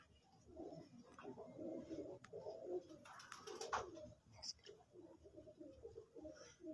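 Pigeons coo in a loft, including a champion racing hen flown for five years, their soft repeated calls rising and falling over a steady murmur, with speech faintly in the background.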